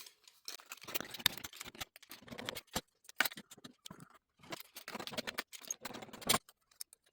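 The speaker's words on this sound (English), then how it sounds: "For the top, I'm going to cut out a little piece that so that it can come here more easily" Scissors or snips cutting a small piece out of a thin metal can, a run of sharp, close snipping and crinkling clicks in irregular bursts separated by brief pauses, with no talk.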